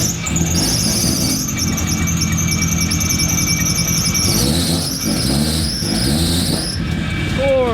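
A loud, continuous high-pitched belt squeal from a Nissan R32 GTR's 2.6-litre engine just after startup, the belt slipping, likely from coolant on it, wavering in pitch over a running engine, with voices talking underneath.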